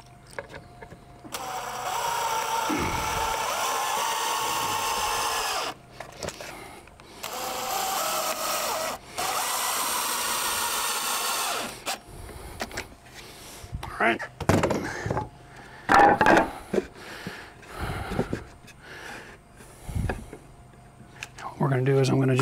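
A power drill or driver running screws into wood for a DIY bench build, several long whirring bursts with short pauses, followed by clunks and handling knocks of the boards, with a voice speaking over part of it.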